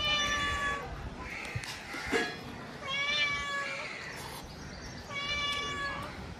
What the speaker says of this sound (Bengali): একটা বিড়াল এসে ডাকছে।